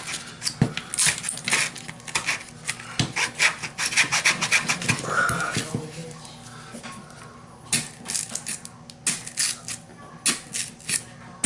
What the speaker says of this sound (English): Here's all the extra foam that came off of it. Probably get a serrated knife.